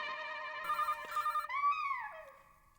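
A telephone rings in a household comedy scene with a sustained electronic ringtone, a few pulsing tones, then a gliding melodic phrase that fades out.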